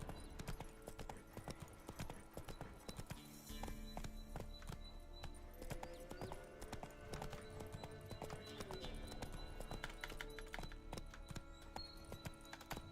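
Continuous rhythmic clip-clop of a galloping horse in The Witcher 3, steady and close, with faint other sounds in the background and no talking.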